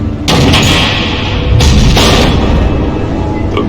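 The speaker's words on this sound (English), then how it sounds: "The missiles." Missiles explode in the Batman: The Enemy Within video game, with loud, dense booming blasts and a rumbling roar that swells twice in quick succession, then sustains before fading near the end.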